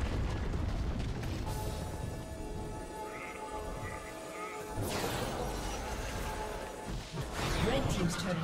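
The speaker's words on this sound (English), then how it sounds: "Red team's turret has been destroyed." A turret in League of Legends is destroyed with a crashing, rumbling burst midway through, set against busy in-game battle noise, ambient tones and an announcer's voice.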